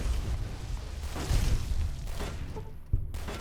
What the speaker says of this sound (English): Mind the explosion!